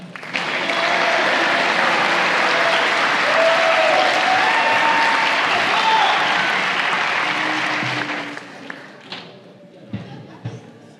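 At a spring Fire & EMS graduation ceremony, a large crowd claps loudly and continuously for the fire graduates, mixed with cheering voices. The clapping fades after about eight seconds into scattered thumps and murmurs.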